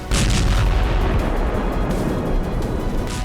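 Russian and Belarusian military exercises near the Ukraine border in heavy snowfall, with loud, continuous booming blasts and rumbling detonations that fill the whole short stretch.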